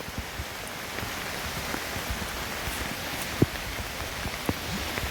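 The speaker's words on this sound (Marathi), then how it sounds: "मुसळधार पाऊस चालू झालेला आहे एकदम" Heavy monsoon rain pours down over flooded paddy fields in the Konkan countryside, a dense, even hiss of falling water with scattered close drops ticking and tapping through it, no voices.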